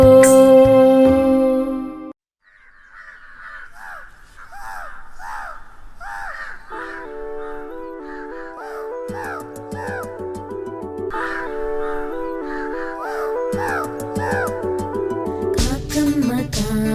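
Repeated crow caws in a cartoon nursery rhyme, a rhythmic series of calls set against a melodic instrumental backing, with a musical passage at the start.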